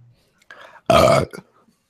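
A single loud, close burp lasting under half a second, framed by soft whispery breathy sounds just before and after.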